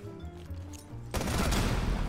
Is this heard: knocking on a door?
no